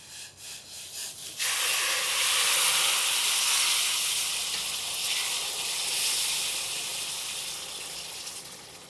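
Hot water hits roasted semolina in a large pot for rava kesari, setting off a sudden loud, sustained steamy sizzle and hiss that slowly eases off.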